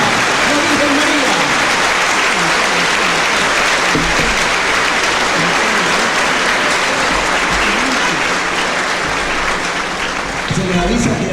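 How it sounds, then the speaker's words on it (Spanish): Loud, sustained applause from a large crowd at a Catholic Mass, steady clapping filling the space for several seconds with a faint murmur of voices underneath. "Démosle un fuerte aplauso"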